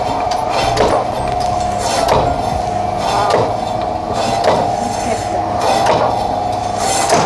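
A knife slicing through the point of a smoked beef brisket on a cutting board, with steady repeated strokes and knocks against the board in a regular rhythm under a constant background hum.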